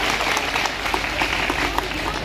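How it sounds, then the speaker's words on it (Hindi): A crowd at an outdoor political rally in Gorakhpur claps loudly and steadily, a dense continuous patter of many hands with scattered sharper claps standing out. "भारती, बेचरी राजभर, इंद्रजीत राजभर, रमाशंकर, इन सभी साथियों के नाम पे जोरदार ताली बजा करके स्वागत करिए।"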